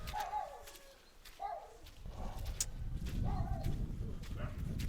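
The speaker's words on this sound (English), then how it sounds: "Just hear some dogs and chickens." Dogs bark and chickens cluck around a quiet village, scattered distant calls over a rising low rumble and shuffling.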